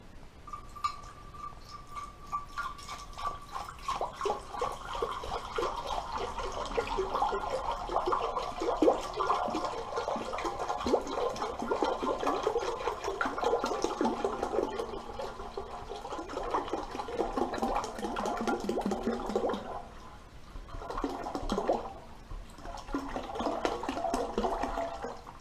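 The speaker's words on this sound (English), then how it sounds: "So I guess we're gonna start pouring and just see how much we can actually put in the pan." Water is poured from a container into a shortened engine oil pan, a continuous close gurgling splash that runs for most of the stretch, briefly pauses near the end, then resumes.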